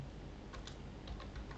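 Quick, close keystrokes on a computer keyboard during setup of a Debian 10 server, a short irregular burst of clicks with no voices.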